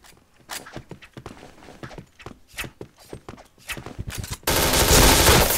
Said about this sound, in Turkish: Beni vurmadın ki Yusuf'a vurdun lan bana